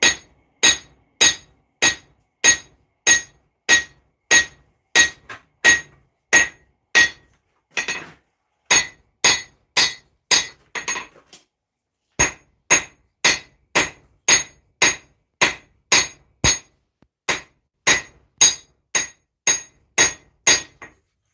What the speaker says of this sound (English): I'm going to bevel the blade.